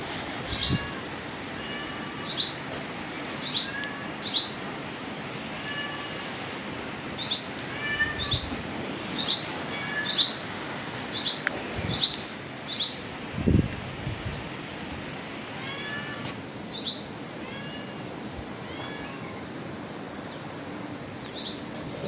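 A sparrow chirps out in a farm field, giving a long series of short, bright tweets at irregular intervals, moderately close over faint rustling ambience with no talking.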